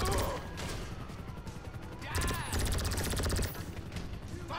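Gunfire in the video game GTA V Online, dense bursts of rapid automatic shots and impacts with loud, continuous game noise, at times near and heavy, with no pause in the action.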